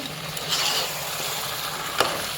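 Tomatoes tossed into a hot frying pan and stirred while cooking chicken fry, a soft sizzle with scraping and clinks of the spatula, including one sharp knock near the end.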